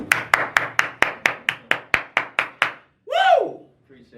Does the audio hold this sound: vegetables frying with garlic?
no